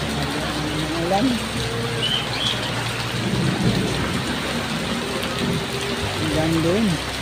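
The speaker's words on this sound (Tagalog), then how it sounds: "Ulan." Heavy rain pours steadily with strong wind and rolling thunder, a dense continuous roar close by, while voices speak faintly underneath at a couple of points.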